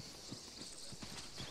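Horse hooves clip-clopping in Arma 3, a quick, regular run of faint hoof knocks at walking pace, alone, over a soft background hiss.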